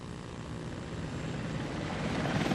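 An Apache military helicopter, in a 1991 Gulf War setting, gives a steady rotor and engine roar that grows slightly louder over its length, with no voices.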